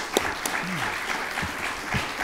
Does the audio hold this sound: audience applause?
yes